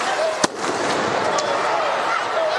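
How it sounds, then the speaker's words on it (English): A single sharp flashbang blast from police during a riot cracks out early, followed by a noisy crowd and outdoor commotion. "Police then deploy flashbangs in order to push them back."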